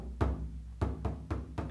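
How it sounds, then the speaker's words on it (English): Fingers tapping a drying calfskin banjo head, four dull, low thumps spaced unevenly, close and fairly soft. "normally it sounds like this when you tap on them because it's wet leather."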